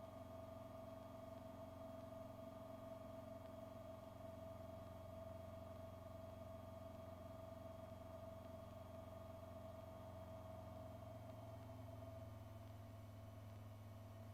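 A 1954 Piper Supercub engine drones steadily in flight, a low, even hum with a sustained tonal whine. It stays constant and fairly quiet throughout, with no voices.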